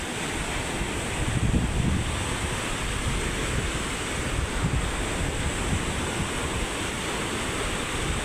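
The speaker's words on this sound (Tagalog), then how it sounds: "Lalaki ng alon, no?" Large ocean waves pound near a pier as a typhoon moves away, with strong wind roaring and buffeting the microphone in a constant loud rumble that swells briefly, and no talking.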